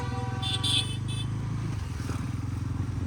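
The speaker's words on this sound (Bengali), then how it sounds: "নিয়ে চললাম আমি বাইক।" A motorcycle engine runs steadily with a low harmonic hum while a horn honks briefly in the surrounding traffic, staying fairly loud and close throughout.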